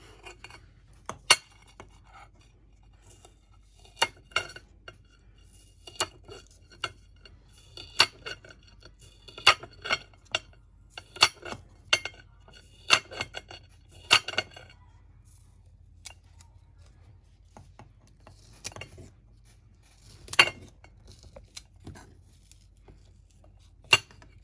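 Scissors snip through brown shrimp salad ingredients onto a plate in a string of sharp, close clicks and snips, irregularly spaced with short pauses between them, in a quiet kitchen without talking.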